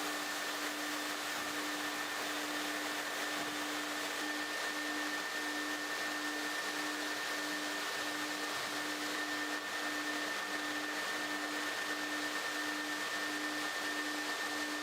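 A floor sanding machine fitted with 100 grit paper works over engineered hardwood, giving off a steady, unbroken motor drone with a constant hum that holds for the whole stretch.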